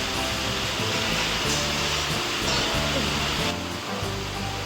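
Heavy rain pours down in a dense, roaring wash that stays steady and loud throughout. A faint low rumble sits beneath it.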